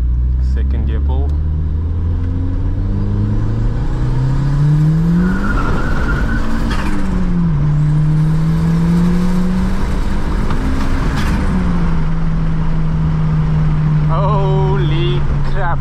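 A 1.8T Mk2 Golf GTI with a big GTX2867 turbo, tuned on pump fuel, makes a loud, close second-gear street pull, its engine rising steadily in pitch, dipping briefly at shifts, then climbing again, with a faint tire chirp.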